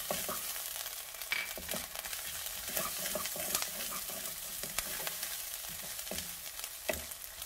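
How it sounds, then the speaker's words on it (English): Ginger paste and garlic stirred quickly in a hot pan while cooking beef fried rice: a steady sizzle with repeated scraping and clinking strokes of a utensil, close and continuous, no talking. "Now I'm going to add the ginger paste and the garlic. And you don't want to burn the garlic, so kind of mix it quickly."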